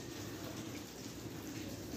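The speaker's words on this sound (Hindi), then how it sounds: "हो रही है फुल तेज बारिश" Heavy morning rain pouring down outdoors: a dense, even hiss of falling water that stays steady for a couple of seconds, close and fairly quiet, with no voices.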